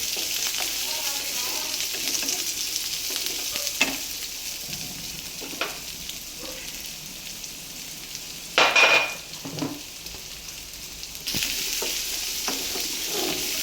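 Onions sizzle and fry steadily in a pan for salted chicken, a soft continuous hiss broken by a few stirring scrapes and clinks of a utensil against the pan.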